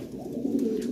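A white Lahori pigeon gives one short, close, throaty coo that rises slightly toward its end.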